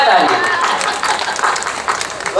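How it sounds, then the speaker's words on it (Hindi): An audience at an All India Mushaira poetry recital breaks into lively clapping that swells and scatters in bursts, mixed with crowd noise and voices. "बजाओ ताली"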